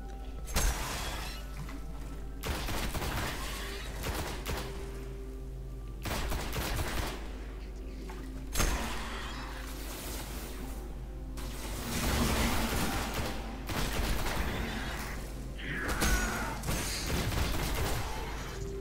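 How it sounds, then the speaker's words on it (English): Incendiary grenade blast from the Destiny beta, a fire grenade that sets enemies alight, heard within a dense stretch of game combat with repeated bursts of gunfire and crashing impacts at fairly steady loudness. "An explosive grenade that catches enemies on fire, causing additional damage over time."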